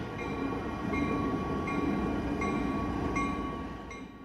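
A freight train rolls along the rails in a continuous loud rumble with a faint steady whine above it, holding level before easing slightly at the end.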